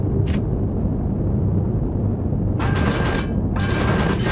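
Gunfire shooting out cores in Empyrion booms as a loud, low, rumbling roar, with bursts of sharper crackling blasts near the start and end.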